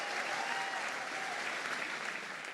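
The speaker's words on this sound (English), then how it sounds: "give a big round of applause to Jordan, Kobe and Jack." Steady audience applause, a dense continuous wash of clapping throughout, fairly distant and even in level.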